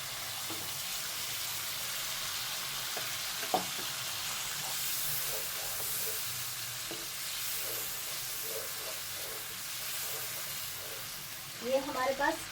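Masala keeps up a continuous sizzle in a pan as fried koftas go in, with faint voices in the background and a few soft clinks and stirs. A louder clatter of utensils comes at the end.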